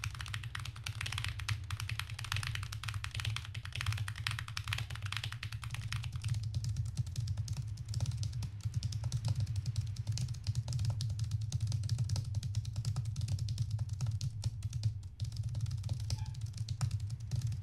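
A BFKB113PBK keyboard used for Taiko play is typed on steadily in fast, soft, muted taps, a continuous quiet clatter heard close up with no voices.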